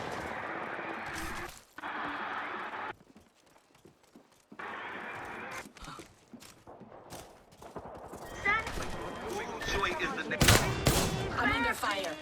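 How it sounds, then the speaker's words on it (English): Video game gunfire in scattered bursts of shots, loud at first, then quieter and broken up, with busier crackling action later on. A voice talks over parts of it. "I'm under fire."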